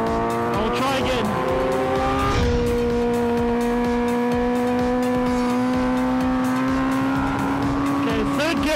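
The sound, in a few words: Kawasaki H2R motorcycle accelerating in third gear on track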